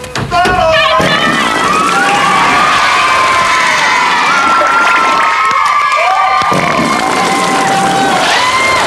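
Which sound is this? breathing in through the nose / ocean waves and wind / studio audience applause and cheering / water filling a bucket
studio audience applause and cheering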